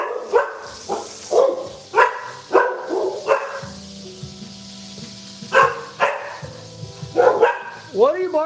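Several dogs bark in short repeated bursts and yips, fairly close, in a home kitchen; someone talks between and over the barks.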